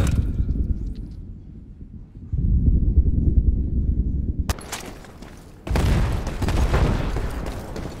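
A frag grenade goes off in a multiplayer shooter game custom match, a heavy low boom that rumbles for a couple of seconds, followed by more sharp bursts of combat noise.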